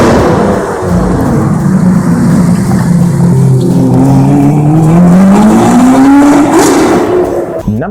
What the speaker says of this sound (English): driving your Lamborghini up and down Cumberland Street, revving your engine